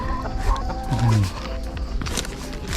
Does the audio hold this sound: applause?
no